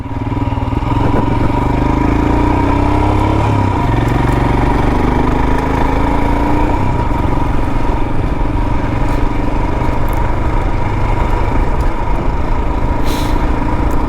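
A 2022 Royal Enfield Himalayan motorcycle on a ride along winding country roads, its engine droning steadily and loudly throughout with wind rush and no pauses.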